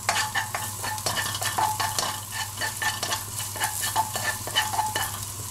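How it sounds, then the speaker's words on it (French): Ginger sizzles in a hot frying pan while a utensil stirs and scrapes it in quick repeated strokes over a steady hiss; nobody talks. "On le fait frire une dizaine de secondes."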